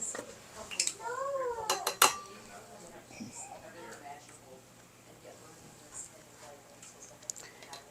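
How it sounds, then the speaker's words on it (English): A spoon clinks and scrapes against a bowl while a Dijon mustard and olive oil dressing is stirred in a home kitchen. A few sharp clinks come in a brief cluster, with someone talking over them. "I'm going to stir that all up"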